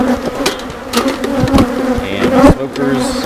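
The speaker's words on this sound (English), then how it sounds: "there's a lot of bees in this box." Honey bees swarm around an opened hive box, their dense, steady buzzing close and continuous, with a smoker running nearby and occasional knocks of frames against wood.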